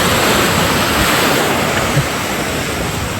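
Beach waves surge and wash in a loud, unbroken roar, with wind noise against the microphone.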